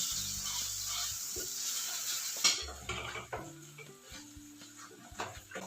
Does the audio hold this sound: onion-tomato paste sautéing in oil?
yes